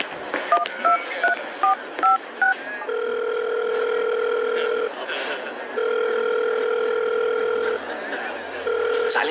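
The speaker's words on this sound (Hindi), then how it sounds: "साले समरेश, फोन उठाना।" A rapid series of short touch-tone dialing beeps, then long repeating ringback tones on a phone line, clear and close with a faint background hiss.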